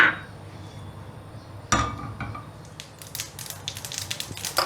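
Mustard seeds splutter in hot oil for pottu kadalai chutney, with scattered sharp pops and crackles that start sparse and grow denser toward the end.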